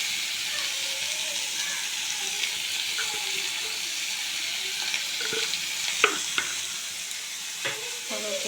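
Brahmi greens (water hyssop) with a little turmeric fry in oil with a constant hiss, while a spatula scrapes and knocks against the pan now and then. A faint voice can be heard in the background.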